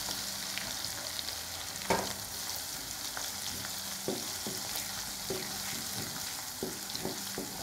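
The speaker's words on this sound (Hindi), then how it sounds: "अदरक को भी डालते हैं," Ginger added to hot oil for a homemade mango pickle, frying with a steady broadband sizzle and occasional stirring clicks and scrapes of a spoon against the pan throughout.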